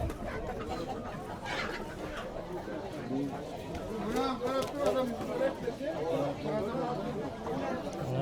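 Chickens cluck at a poultry market in Beruniy, amid a busy crowd of voices, with people talking and haggling throughout at close range.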